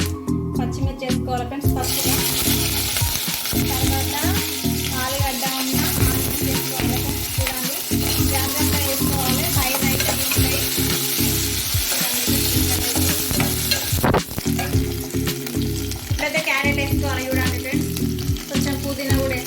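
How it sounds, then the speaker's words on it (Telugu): Spices fry loudly in oil for a quick bachelor-style biryani, a dense continuous sizzle with repeated scraping stirs of a ladle in the pot throughout, close and prominent, with no talk. "మంచిగా ఫ్రై అవ్వాలి ఆయిల్లో పచ్చివాసన పోయేంతసేపు వేయించాలి"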